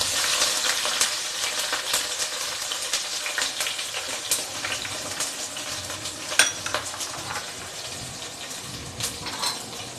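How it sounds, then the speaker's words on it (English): Crushed garlic cloves and a piece of ginger sauté in hot oil in a pan for a Kerala-style seer fish dish, giving a steady, crackling sizzle with occasional utensil clinks and stirring sounds, and no talking. "And I will saute this nicely till it becomes little brown in color."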